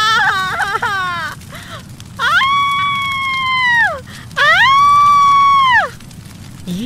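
A woman playing a burning witch screams in agony, giving long, loud, wavering wails separated by brief gaps, close and harsh.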